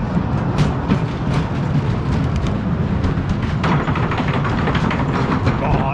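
Loud, steady mechanical rumble with rhythmic clanking and rattling as a roller coaster train is hauled up a cable lift hill at Dreamland Margate, continuous throughout.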